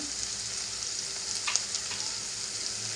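Malvani masala and garam masala sizzle in hot oil in a pan over medium heat, a steady bright crackling hiss with a few stirring scrapes, close and continuous.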